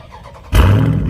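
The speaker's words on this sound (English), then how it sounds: "That muffler delete." A 2021 Dodge Charger Scat Pack 392 engine with the muffler deleted bursts to life halfway through, a loud, raw, rumbling roar that holds steady after a quieter start.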